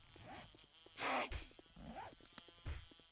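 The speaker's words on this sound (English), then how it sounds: "Is that my beehive or is that an actual bee?" Beehive buzzing in the 7 Days to Die game, Darkness Falls mod, a faint insect-like drone with a louder burst in the middle, mixed with other soft game sounds.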